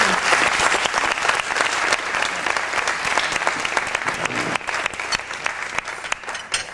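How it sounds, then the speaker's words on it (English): An audience at a talk on religion and civil rights gives a round of applause, a loud, dense wash of clapping with some sharper individual claps, sustained throughout and easing slightly toward the end. "Give him another round of applause."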